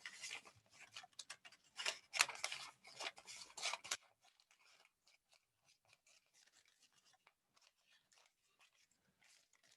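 Scissors snip through paper, cutting it into thirds during a maths demonstration: a dense run of quick, close rasping cuts for about four seconds, then only faint, sparse crinkles and ticks of paper handling.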